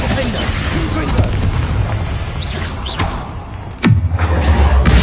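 The Confringo spell goes off in Hogwarts Legacy as a loud booming explosion with a falling whoosh near the end, over busy game effects and a voice speaking.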